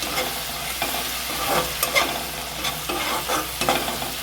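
Tomato paste sizzles in oil in a pan over a low gas flame, a bright steady frying hiss broken by several scraping stirs of a spatula, close and alone with no talk.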